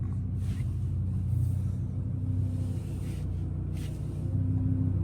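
An Audi R8 V10 mid-engine car rolls out of a garage in reverse, its engine a steady low idling rumble that stays close and even throughout.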